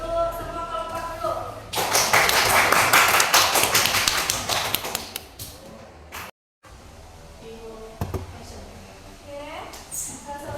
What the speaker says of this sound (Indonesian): Kita beri tepuk tangan untuk semua kelompok dulu.